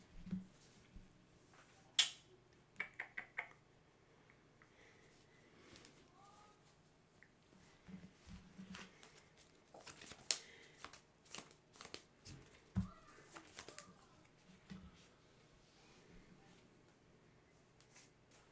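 A Pokemon trading card deck shuffled by hand at a tournament table, quiet riffling and sharp card snaps in short clusters, close and faint with small handling noises between.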